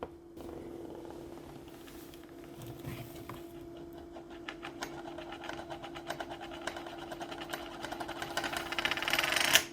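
A heavy coin spinning on a smooth surface, a steady close whirring rattle that grows gradually louder and faster until it ends in a brief final clatter.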